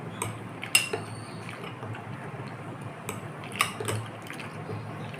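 Watery Bombay chutney is being stirred with salt in a vessel, making a soft liquid swish punctuated by a few sharp clinks of a utensil against metal. No one talks.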